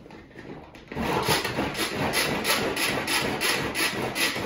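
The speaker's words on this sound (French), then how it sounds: "je vais hacher l'oignon." An onion is chopped in an Extra Chef pull-cord chopper, a rapid rhythmic whirring and rasping of blades that starts abruptly and repeats in even pulses, close and steady.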